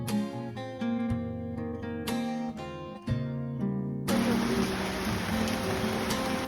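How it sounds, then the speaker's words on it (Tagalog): Heavy rain falls with a dense, broad hiss that comes in suddenly and loudly partway through, after a stretch of music. "Lakas na ng ulan."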